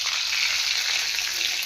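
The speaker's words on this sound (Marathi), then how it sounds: "आपण आता वडा मसाला बनवणार आहे, त्यासाठी फोडणी देऊन घेऊया" Cumin and mustard seeds crackle and sizzle in hot oil for a vada masala tempering, a continuous close frying hiss.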